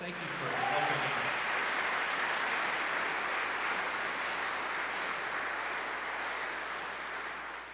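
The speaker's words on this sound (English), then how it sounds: "So let's just give everyone a round of applause." Sustained applause from a conference audience at a faith gathering, a steady broadband patter holding evenly for several seconds and slowly tapering toward the end, with a brief voice at the start.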